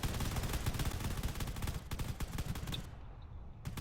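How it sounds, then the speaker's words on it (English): Rapid bursts of video-game gunfire crackle as battleships and fighters exchange fire in a space battle, with dense rattling shots that thin out briefly near the end. "There's a lot of gunfire going around."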